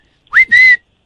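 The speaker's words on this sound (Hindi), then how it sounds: "आगे तो बार बार सीटी परेशान कर रखा है" Two short, shrill whistle blasts in quick succession, loud and close, the second longer than the first, with no talk around them.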